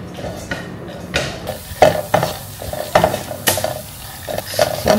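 Sunflower seeds fry in a little ghee in a pan, crackling and sizzling as a spoon scrapes and stirs them in repeated strokes.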